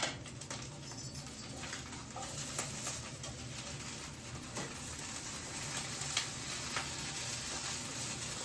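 Leftover grits brown in a hot greased skillet with a steady, close sizzle and crackle that runs on without pause. A few sharper pops stand out, and no one speaks.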